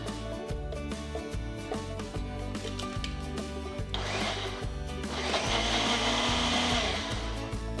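A blender motor runs steadily with a rhythmic churning pulse while pureeing heated raspberry sauce, growing louder and harsher midway as the contents blend.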